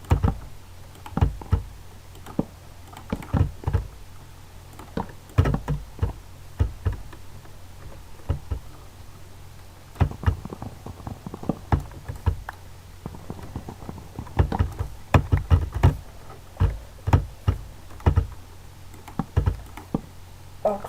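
A computer mouse clicks during a Minecraft session, with close, sharp clicks coming in irregular bursts and scattered single taps over a quiet room background.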